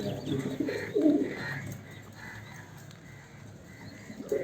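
Homing pigeons feeding at a home loft, soft cooing calls rising and falling close by amid light rustling and scratching, with no one speaking.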